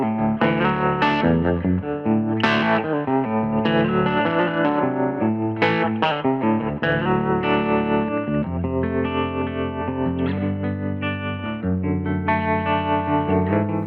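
Distorted electric guitar chords through a Two-Rock Joey Landreth Signature amp with bias tremolo ring out steadily, a pulsing, wavering volume throbbing through the sustained notes, loud and close.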